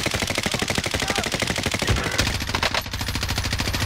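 Rapid, continuous automatic fire from an UZI submachine gun in the video game Warzone, loud and close, with a tight rattling rhythm that barely pauses across the burst.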